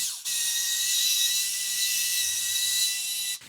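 A power drill whines steadily at high speed for about three seconds while shed doors are being fitted, starting and stopping abruptly, close and loud.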